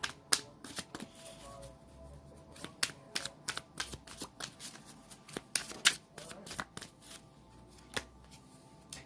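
Tarot cards being shuffled and drawn at close range, a rapid run of crisp riffles, flicks and slaps in uneven bursts, fairly quiet overall with no talking.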